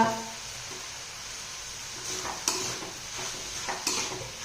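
Masoor dal being sautéed and stirred with spices in a pan, a soft steady background sizzle broken by a few sharper scrapes of a spoon against the pan.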